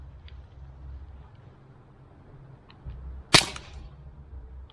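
A single sharp snap from a Cybergun Taurus PT24/7 G2 airsoft pistol firing a BB outdoors toward small trees, standing out against quiet low background rumble.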